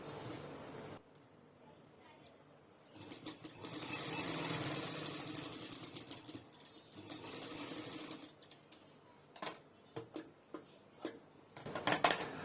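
A sewing machine stitches a folded tuck in fabric, running in a few short bursts of rapid ticking with pauses and small clicks between, fairly quiet and close.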